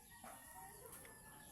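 A hen clucks faintly near a tree in a rural setting, a few soft short clucks over quiet outdoor background.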